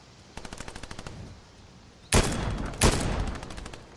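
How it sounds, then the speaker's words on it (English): Fortnite gunfire: a quick rapid burst of shots, then louder close bursts of automatic fire, with no talking. "There's a dude shooting at you."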